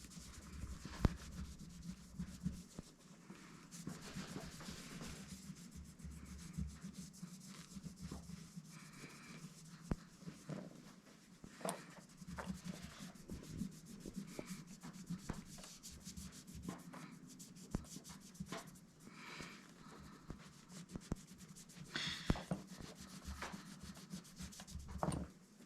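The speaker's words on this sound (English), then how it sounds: "So I'm going to just go ahead and start buffing this polish off of here." Cloth buffing polish off a stained glass poinsettia ornament, a quiet continuous rubbing and scrubbing with scattered small clicks and taps, close and faint.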